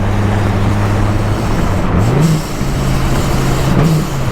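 A boosted 1,200-horsepower Dodge Viper accelerates hard, heard from inside. The engine drones loudly and steadily, with brief pitch dips around what sound like two gear changes.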